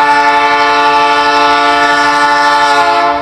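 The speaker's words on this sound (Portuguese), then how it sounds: "E ali tá vindo mais um trem." A train passing on the railway line in Bairro Tatu, Limeira, São Paulo, sounds a very loud, close, sustained horn that holds steady for over three seconds.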